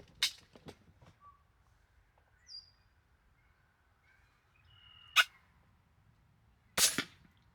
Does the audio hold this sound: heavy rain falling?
no